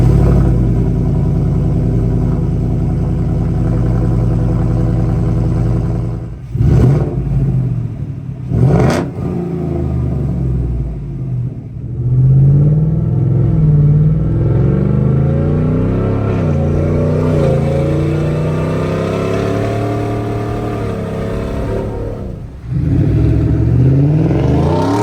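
A car revving through a cut-off 3-inch exhaust pipe with no tip, angled out the side: a loud, steady, raspy drone that climbs and falls through several rev sweeps, with short throttle blips and drops in between.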